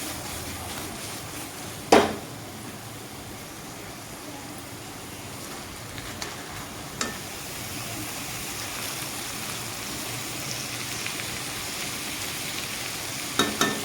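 Sliced eggplant fries in hot oil in a pan, giving a steady soft sizzle with a few sharp clinks and scrapes as it is stirred.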